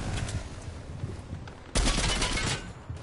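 Rapid bursts of gunfire from the video game Fortnite, a dense crackling volley that grows louder and fuller partway through, heard without speech.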